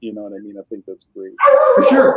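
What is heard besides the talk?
dog barking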